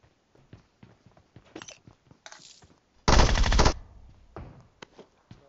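A shotgun blast rings out once, sharp and fairly loud, in the Metro Royale shooter game, amid scattered faint clicks and footstep-like taps.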